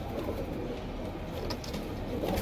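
Pigeons of show breeds such as Border Wale and Kalanch, kept for sale, give soft, low cooing against a steady background murmur, faint and continuous across the short stretch.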